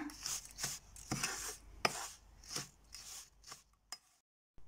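Rava ladoo mixture being stirred and mixed in a vessel, giving a run of irregular scraping and knocking strokes, fairly close and moderately loud, that breaks off into near silence at the end.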